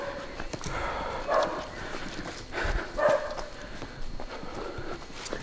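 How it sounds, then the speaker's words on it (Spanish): A dog barks a few times at a distance in a forest, the short barks standing out over a steady outdoor background with faint footsteps nearby. "Por ahí ladra un firulay"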